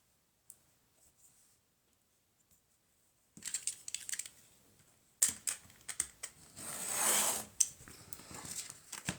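Paper being trimmed with scissors for a handmade junk journal cover, quiet at first and then a close series of crisp snips and rustling cuts with a longer sustained slice near the end, no talk.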